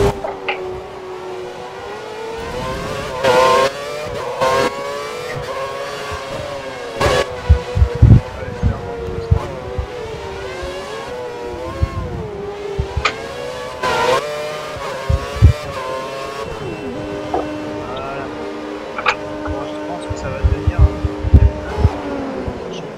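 A Formula 1 car from the F1 2013 racing game, qualifying in India, runs at full throttle down long straights, its high engine whine climbing and dropping through gear changes, loud and continuous with intermittent voices over it.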